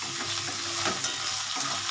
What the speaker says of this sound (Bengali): রসুন থেতোটা দিয়ে দিলাম